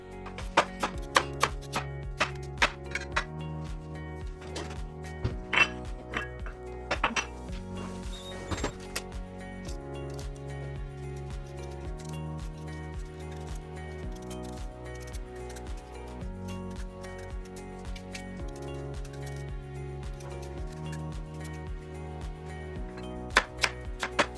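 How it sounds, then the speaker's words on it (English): Root vegetables are chopped on a board in a home kitchen, giving quiet, irregular knife knocks and thunks against a soft tonal background. "I just finished chopping up the root vegetables"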